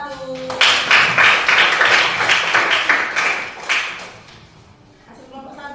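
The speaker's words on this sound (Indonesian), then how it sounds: "tepuk tangan untuk kelompok 1" Group applause in a classroom, a broadband patter of many hands clapping steadily for several seconds before fading out, with voices talking faintly toward the end.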